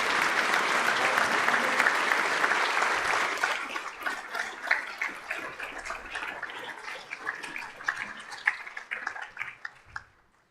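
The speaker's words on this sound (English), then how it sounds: "Please applaud this graduating class for their hard-earned merit." Audience at a senior honors ceremony applauds the graduating class, dense loud clapping that thins into scattered claps and fades out near the end.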